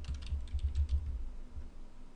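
Someone types a name on a computer keyboard, producing a short run of soft, uneven key clicks that are close and fairly quiet, with no voices.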